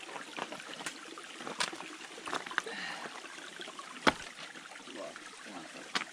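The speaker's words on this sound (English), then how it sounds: "Oh, pretty waterfall." A waterfall and running water along a hiking trail produce a soft, steady rush and trickle at moderate distance, broken by scattered splashes and a few sharp clicks, with no voices.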